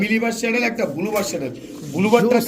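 Pigeons at a pigeon market selling racer, Damascene, Budapest and kaldam breeds give soft, throaty coos that roll in and out at close range, mixed in with nearby voices.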